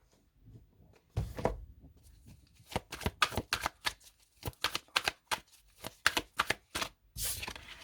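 Vision Quest Tarot cards being shuffled by hand, close and quiet, with a long riffle followed by a series of quick, crisp flicking bursts in uneven rhythm, no talking.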